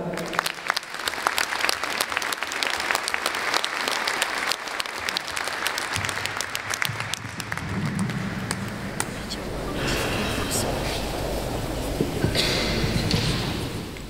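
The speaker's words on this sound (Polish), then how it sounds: "proszę o ogromne brawa" Audience at a charity Christmas and New Year concert in Bytom claps in a sustained, dense burst of applause that swells again near the end, with some voices mixed in.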